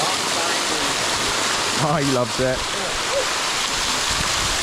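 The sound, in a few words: waterfall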